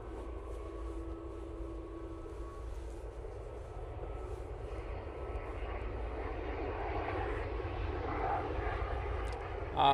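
An Aer Lingus airliner arriving from Dublin at Manchester Airport, a steady distant engine roar that slowly builds and swells toward the end, with no talk over it.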